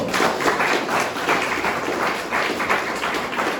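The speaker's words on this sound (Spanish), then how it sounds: "Den un fuerte aplauso al Señor." A church congregation claps loudly for several seconds, a dense, steady wash of hands with rhythmic pulses running through it, close and full, with no voice over it.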